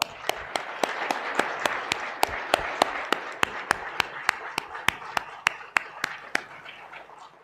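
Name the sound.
audience clapping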